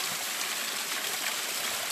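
Fresh running stream water on Mount Wellington near Hobart, Tasmania, rushes and gurgles in a steady, close hiss with no pauses.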